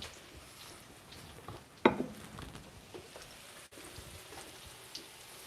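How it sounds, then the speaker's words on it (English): Breaded chicken of the woods mushrooms fry in a pan with a soft, steady crackle and sizzle, plus a brief louder clatter near the start; quiet and close. "Okay, so those are frying."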